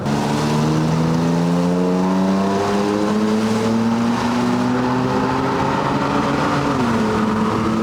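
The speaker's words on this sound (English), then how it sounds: "you can hear that you have an exhaust when you actually put your foot down" A Toyota Tacoma pickup with an AWE true dual exhaust revs up steadily, its deep exhaust note climbing in pitch as it accelerates, loud and close with a brief dip near the end.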